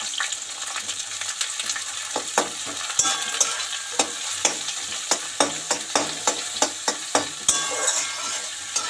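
Chopped onion fries in hot oil with whole dry chilli, cinnamon and cardamom in a pan, a steady sizzle broken by a regular series of sharp spatula scrapes and taps, close and clear with no talk.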